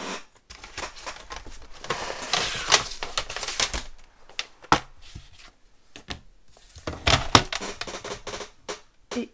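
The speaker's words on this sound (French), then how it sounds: "Je vais prendre simplement mon massicot." A paper trimmer slices paper during a scrapbooking bookmark project, giving a series of short, dry cutting and scraping bursts with brief pauses between them, fairly close and alone with no talk.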